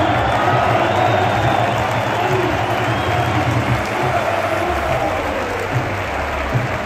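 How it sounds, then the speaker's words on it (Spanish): Football fans in a stadium applaud in a sustained, dense wash of clapping that stays steady and fairly loud throughout, with crowd murmur underneath. "siendo ovacionado por la afición que aplaudía el gran gesto del croata"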